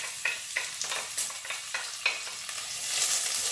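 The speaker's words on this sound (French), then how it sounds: "je vais tout de suite mettre mes oignons" Onions hit hot olive oil in a sauté pan and fry with a loud, steady sizzle, punctuated by a series of sharp stirring scrapes and clatters close by.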